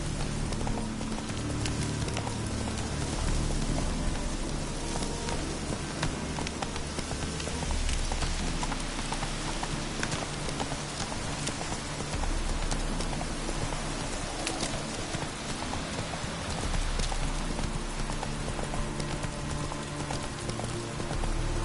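Rapid clip-clop of the horse Roach galloping in The Witcher 3, a continuous loud hoofbeat rhythm over a dense rain-like wash of ambient noise.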